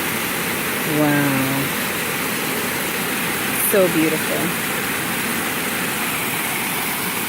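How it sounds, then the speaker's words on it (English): Steady broadband rush of a round waterfall in a natural woodland setting, a constant wash of falling water throughout, with brief voices speaking over it twice. "A round waterfall."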